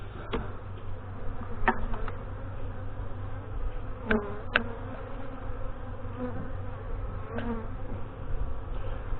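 Honey bees hum in an open hive during an inspection, a steady, dense drone close by, with a few sharp clicks and taps scattered through the buzzing.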